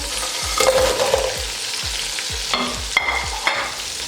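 Fried chicken pieces being tossed and stirred in a hot pan for Chicken 65, with steady oil sizzling and a rhythmic series of scraping stir strokes, close and without any voices.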